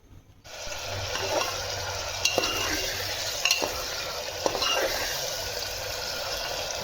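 Pieces of meat for aloo gosht fry in hot oil with a steady, close sizzle, while a spoon scrapes and clinks against the pot in occasional sharp strokes; no one speaks.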